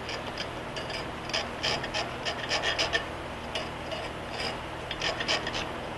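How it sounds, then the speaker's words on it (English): A small carbide scriber is dragged across broken cast iron, giving faint, close scratchy strokes in short irregular bursts over a quiet background. "I've just got a little carbide scriber here"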